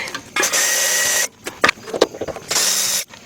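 Casing screws are backed out of an LG window air conditioner with a power driver, two loud sustained whirring bursts separated by short clicks and handling clatter, close up.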